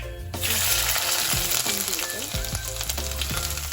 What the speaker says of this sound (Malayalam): ചുവന്നുള്ളി ഇട്ടു, വെളുത്തുള്ളി ഇട്ടു, പച്ചമുളക് ഇട്ടു, കുറച്ച് കറിവേപ്പില ഇതിൻ്റെ കൂട്ടത്തിൽ കുറച്ച്